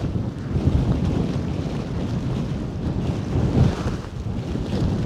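Storm wind gusting over 50 MPH batters a microphone outdoors, a loud, continuous low roar that swells and buffets, with no voices.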